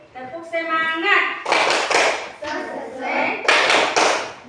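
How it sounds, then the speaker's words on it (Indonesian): Children in a classroom perform a rhythmic spirit clap, with bursts of hand claps in patterned beats alternating with chanted group voices, loud and close. "Kita mulai tepuk semangat."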